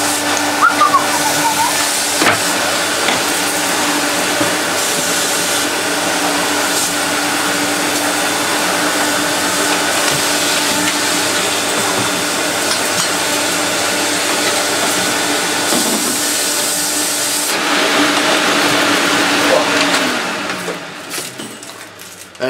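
A refurbished Tango Hoover Junior 1346a upright vacuum cleaner runs with a loud, steady whining roar and a full bag, holding constant before winding down near the end.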